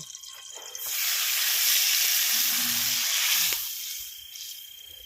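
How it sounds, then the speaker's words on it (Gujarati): Spices hit hot oil for tempering poha on a village farm at night, bursting into a loud, steady sizzle that swells after a second, holds close for a few seconds, then eases back. "જો મિત્રો તેલમાં વઘાર કરે છે આવી"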